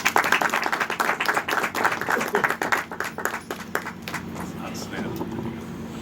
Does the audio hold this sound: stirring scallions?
no